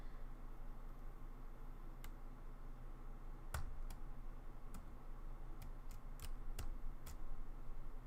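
Keys on a computer keyboard tapped in a few sparse, separate clicks at close range over a steady low hum, with no speech.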